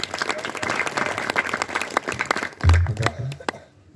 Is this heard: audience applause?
yes